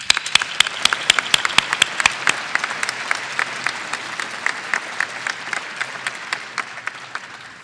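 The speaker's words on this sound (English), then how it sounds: "Please join me in a round of applause to thank the division chairs for their service" Conference audience at an awards celebration giving a round of applause for division chairs, many hands clapping steadily with sharp individual claps standing out, gradually thinning toward the end.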